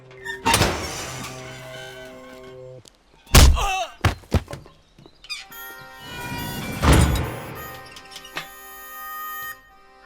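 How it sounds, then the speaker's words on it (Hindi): A jail door in an old comedy film scene is unlocked and swung open: heavy metallic clanks, a rattling bang and a squeal of bars, among a few brief thuds, fairly loud and close. "दरवाजा खोलो।"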